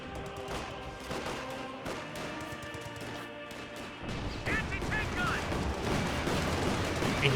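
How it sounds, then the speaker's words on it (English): M1911 pistol shots in a Company of Heroes 2 battle, scattered sharp cracks amid distant battlefield bangs and explosions, with commentary running over the action throughout. "Major is actually starting to fire off his M1911."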